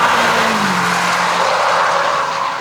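A Porsche prototype on a warm-up lap passes in a short, loud burst of broadband engine and tire noise, the pitch sliding slightly downward as it goes by.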